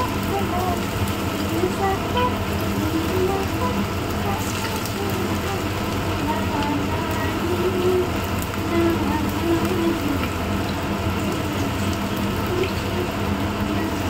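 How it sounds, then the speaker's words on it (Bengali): Corn kernels frying in hot oil, a steady dense sizzle and crackle with scattered pops that holds evenly throughout at moderate loudness. "এবার কর্নগুলোকে ভেজে নেব।"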